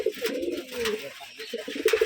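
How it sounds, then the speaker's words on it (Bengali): Pigeons coo at a Giribaz pigeon farm in Rajshahi, their soft throaty rolling calls repeating close by in short bursts, with one louder run of coos near the end. "এই যে এখানে 1 পেয়ার কবুতর আছে,"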